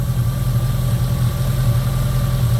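A 2002 Jeep Grand Cherokee with the 4.7 engine and a cylinder 3 misfire idles loudly and steadily up close, with a constant low rumble.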